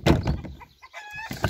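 Bearded hen clucking close by in a poultry yard, a few short bursts of clucks with brief pauses, no talking over it.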